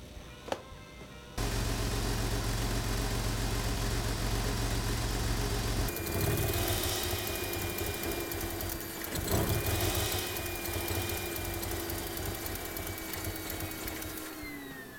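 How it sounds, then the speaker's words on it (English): A car engine idling steadily outside while running too rich, a constant mid-pitched drone with faint whine, close and continuous for the whole stretch without speech. "Now I have brought the car outside because it is obviously running way too rich."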